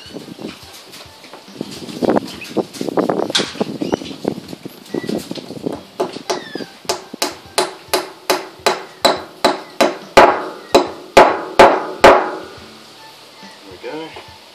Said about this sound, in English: Okay, so when we actually knock this in, you'll notice there's a beveled edge here.